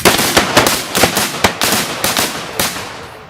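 Muzzleloader guns fired to empty them at the end of a shooting day, a rapid irregular volley of sharp, loud reports overlapping one another.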